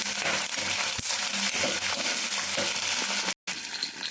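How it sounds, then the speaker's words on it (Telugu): Onions, peanuts, garlic and green chillies for gongura chutney hiss and crackle in a hot pan as they are stirred, a loud, continuous close-up sizzle with one abrupt short cutout near the end. "కొంచెం అటు ఇటు కలపాలి"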